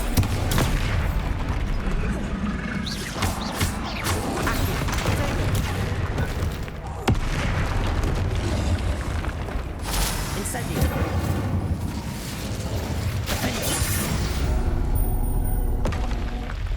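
Bombarda blasting spell explosions in Hogwarts Legacy boom repeatedly amid dense combat noise, heavy blasts and crackling impacts layered over steady game sound, with voices calling out spells.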